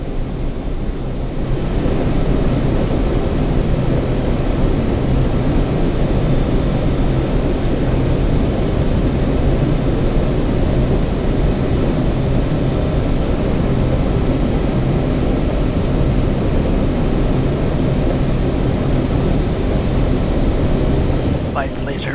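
Engines of a C-17 Globemaster III roar at a steady, heavy level from inside the cockpit during takeoff, a dense low rumble with rushing noise that holds unbroken for over twenty seconds.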